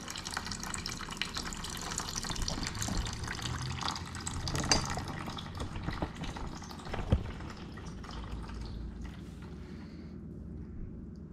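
Coolant drains out of a 2020 Yamaha YZ450F motorcycle radiator in a steady, rushing trickle, a close continuous liquid pour that thins and fades toward the end.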